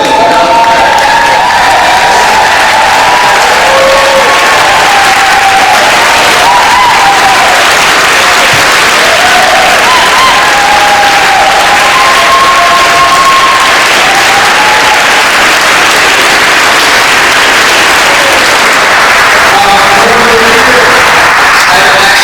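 A large indoor crowd applauds continuously and loudly for over twenty seconds at an event in Anacortes, dense even clapping with a few faint cheers and whoops scattered through it.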